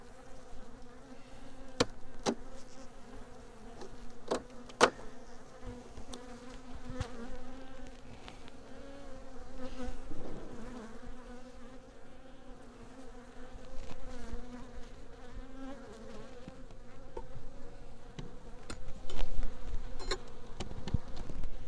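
Honey bees buzz steadily around an opened beehive during an inspection, a dense, continuous drone with individual insects darting close past and away, rising and falling in loudness throughout.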